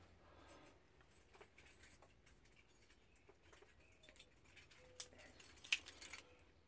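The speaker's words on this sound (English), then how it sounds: "Keys with the key ninja on it and the doohickey." A keychain holding a bundle of keys and small gadgets jangles faintly, with scattered light metallic clinks that grow busier toward the end.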